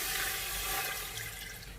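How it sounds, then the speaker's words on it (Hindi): Water pours steadily into a pressure cooker holding beef, a continuous close hissing splash at moderate volume with no talk. "3 लीटर हमने इसमें पानी ऐड करना है।"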